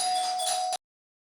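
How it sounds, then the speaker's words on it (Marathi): A house doorbell rings once with a clear bright electronic chime, close and alone, cutting off abruptly into silence. "तुम्हाला घराची बेल ऐकायला आली असेल"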